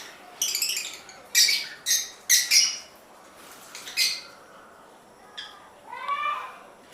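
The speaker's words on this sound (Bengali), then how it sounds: "তো এই দেখো বন্ধুরা বদ্রি পাখি এখানে" A caged budgerigar gives a series of sharp, close squawks and chirps in short bursts, with a higher, rising twitter near the end over a faint background hiss.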